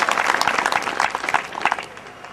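An audience at a Basava Darshana discourse claps in a dense, lively burst that fades slightly toward the end.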